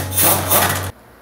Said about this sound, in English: or you can use an air gun.